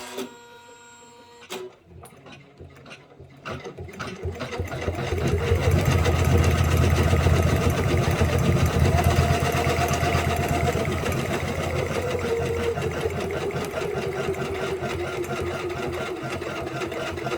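Janome 500e sewing and embroidery machine stitching an embroidery design for upholstery, a few clicks and thumps, then a loud, steady mechanical whir and buzz that keeps running without pause.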